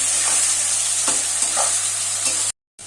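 Onions frying in hot oil with bay leaves, a continuous bright sizzle near and loud, with soft utensil scrapes as they're stirred, cutting briefly to silence at the end, no talking.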